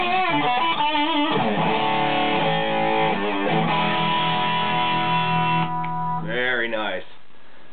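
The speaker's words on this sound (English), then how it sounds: "You can dial up a nice rhythm guitar sound like this" Electric rhythm guitar played through a GOOSONIQUE Seventh Heaven distortion pedal with the boost engaged, giving loud, thick sustained distorted chords and bends that ring out before fading near the end.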